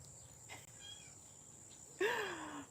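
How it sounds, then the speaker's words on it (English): A kitten gives one short falling meow near the end, fairly faint against a steady background hiss, after a few soft indistinct sounds. "You hear the kitten?"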